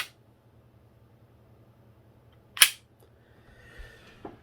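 A WE DP17 CO2 airsoft pistol fires one sharp, close crack, followed by faint clicking of the gun's mechanism in a quiet room, no talking.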